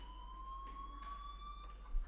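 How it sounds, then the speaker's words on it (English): A school fire alarm in the video game Life is Strange sounds as a continuous high electronic tone, steady and fairly faint, with no speech over it. "Hey, do you hear that fire alarm? That means you should be outside."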